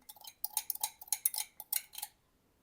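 Eggs mixed with activated yeast and sugar being whisked by hand in a bowl for traditional Hungarian Gerbeaud pastry dough, a quick run of light, rhythmic clinking strokes against the bowl, close and steady, with no talking.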